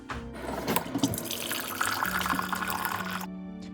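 Warm water runs steadily from a tap into a sink, a broad hiss with splashing that stops abruptly near the end.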